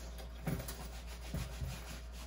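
A leather boot, a Danner Mountain Light Cascade Clovis, is rubbed down by hand, giving faint, soft scuffing strokes in a few short bursts against a quiet low hum.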